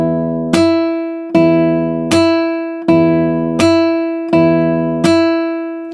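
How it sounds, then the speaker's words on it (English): Acoustic guitar thumb slaps with the adjacent strings muted, six evenly spaced percussive hits, each a sharp attack ringing into one clear sustained note, close and alone. "So when you go to pluck it, you have mute, mute, and then a string"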